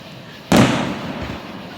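At an outdoor fireworks display in Vian, Oklahoma, a single firework bursts with a sharp, loud boom partway through, followed by a crackling, rumbling decay that fades out over about a second.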